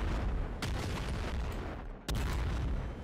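Nuke launcher rockets exploding in the video game Nuclear Throne, with dense, roaring game noise throughout and two sharp blasts cutting through, close and loud.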